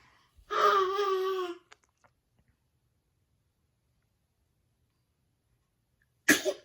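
A single sharp sneeze bursts out, followed by a short silence and then a brief faint breath at the end.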